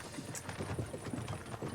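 Horse hooves clop steadily as horses pull a cart in the video game Kingdom Come Deliverance 2, a quiet, brisk rhythm of repeated hoofbeats under low background noise.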